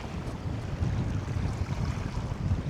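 Wind and waves rush steadily during a boat trip, a continuous broadband roar with low churning water and wind buffeting the microphone, no voices.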